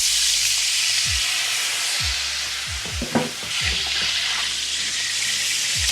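Madeira wine hitting a hot pan beside seared steaks, a steady broad sizzle with scattered low thumps and clinks of stirring throughout, close and alone without talk.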